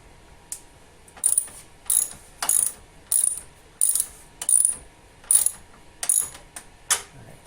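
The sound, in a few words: ratchet cranking to tighten Subaru WRX LED bulb bracket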